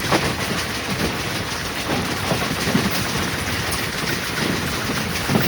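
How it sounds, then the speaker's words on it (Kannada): An express train speeds through the night, a continuous rushing roar with faint clickety-clack from the wheels and a fairly even loudness throughout. "ರಾತ್ರಿ ಟೈಮಲ್ಲಿ ಎವ್ರಿ ಸ್ಪೀಡಲ್ಲಿ ಹೋಗ್ತಾನೆ ಅಂದರೆ ಹೆಂಗೆ ಹೊಡಿತಾನೆ ನೋಡಿ"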